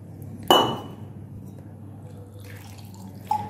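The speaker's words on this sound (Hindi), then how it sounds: "और थोड़ा सा अब हम पानी शामिल करेंगे।" Water poured onto chicken wings seasoned with salt and vinegar, a sharp splashing onset followed by a softer trickle and a second brief splash near the end, close and fairly quiet.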